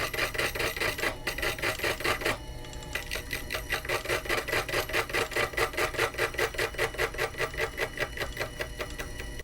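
A 1 mm slitting saw on a Proxxon FF230 mill cuts a workpiece with a fast, even, rhythmic chatter. The cutting is loud and close and runs steadily throughout.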